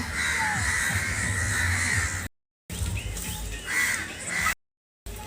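A parrot with an injured eye gives loud, harsh squawking calls, close by, in two stretches broken by short silent gaps.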